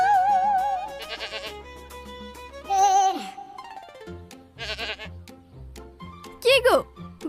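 A goat packed inside a box bleats in several wavering cries, mixed with other voices and sounds, with talking in between.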